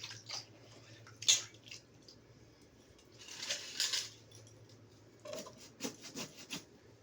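Jackfruit dipped in water and hands rinsed, soft splashing and rubbing with small drips and clinks, quiet and close, no speech.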